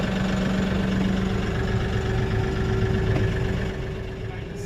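A Kioti NX6010 tractor engine idles and rumbles at close range, holding a constant low drone with a faint hum riding on top throughout.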